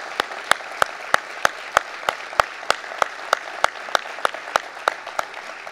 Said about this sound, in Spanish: Por eso le pedimos a todos que a nuestros talentos los recibamos con un fuerte aplauso